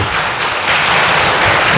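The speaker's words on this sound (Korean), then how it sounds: "환영의 박수 하겠습니다" A church congregation at a Sunday service claps steadily to welcome two first-time visitors, a twin sister and her mother, the dense applause close and continuous throughout.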